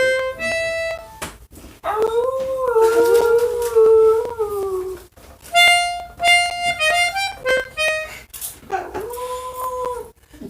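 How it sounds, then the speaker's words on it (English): A long, wavering howl, wolf-like, rises and falls in several drawn-out phrases, loud and close, with brief pauses between calls. "Howling."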